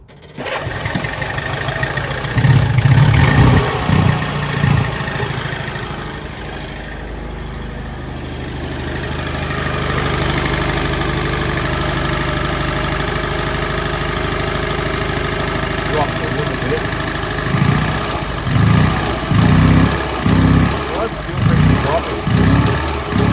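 A small Honda S600 engine is started up close, with a short cranking burst followed by a steady idle. Brief rhythmic pulses return near the end, and a voice talks at times over the running engine.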